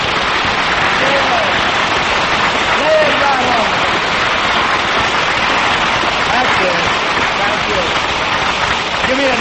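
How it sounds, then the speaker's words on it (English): Studio audience applause on a 1946 Jack Benny radio show, a dense, steady wash of many hands clapping that fills the whole stretch at full loudness, with no voices over it. "Lay that applause on me."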